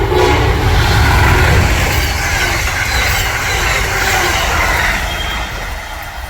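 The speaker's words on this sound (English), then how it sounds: "this train came flying through 6 minutes late" An Amtrak passenger train roars past at speed, loud rumbling and rushing wheels filling the scene before fading slightly toward the end.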